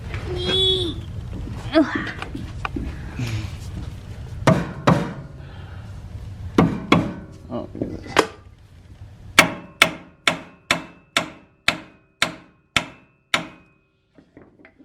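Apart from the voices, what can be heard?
rubber hammer striking car suspension part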